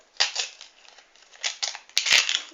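A foil pack of football trading cards is torn open, with close, sharp crinkling and ripping in several bursts and a final quick snap of the wrapper.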